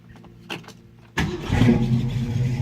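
A 1963 Ford Falcon Sprint with a 260 V8 starts up: a couple of brief starter clicks come first, then the engine catches and settles into a loud, rough idle close by.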